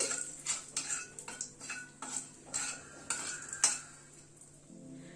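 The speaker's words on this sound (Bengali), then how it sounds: "ফোড়নটা একটু ক্র্যাক করা অবধি অপেক্ষা করব।" Whole spices and a torn bay leaf temper in hot oil over a low gas flame, crackling and popping in quick irregular bursts, with utensil clinks and stirring close by.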